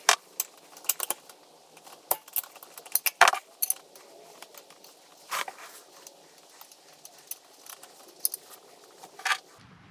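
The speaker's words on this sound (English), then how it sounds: "I'm going to get this fill plug removed right up there." Tools working on the differential fill plug of a 2021 Can-Am Outlander 850 ATV: scattered sharp metallic clinks, taps and scrapes at irregular intervals, close and fairly loud over a quiet background, with no talk.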